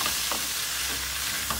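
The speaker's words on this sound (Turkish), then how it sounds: "İyice karıştırdık." Tomato paste, tomatoes and peppers sizzle in a pot while a spoon stirs them, making a constant close frying hiss with a few scraping strokes, no talking.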